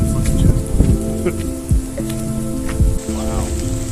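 Rain falls steadily along the Thames Path between Maidenhead and Marlow as a continuous outdoor patter, with a few louder drops and rustles up close and a faint voice in the background.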